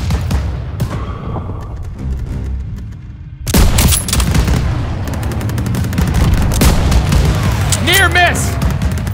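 Heavy gunfire and explosions in the Call of Duty WWII video game, with loud bursts and booming hits in a busy battle scene, mixed with shouting voices.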